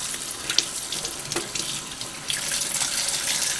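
Tap water runs steadily over freshly caught squid tentacles being rinsed in a sink, a close, continuous splashing stream with small shifts as the tentacles are moved under it.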